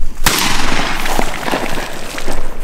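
A shotgun fires at ducks on a public-land duck hunting opener in Wisconsin, one sharp, loud close blast followed by a long outdoor rumble and echo, with fainter rustling after.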